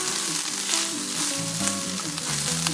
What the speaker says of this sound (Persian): یه مقدار هم میزنیم